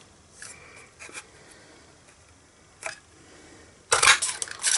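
A 2.5-inch paper punch cutting cardstock for a stamped craft project: a few soft clicks and rustles of handling, then a loud, sharp crunching cut near the end, close up.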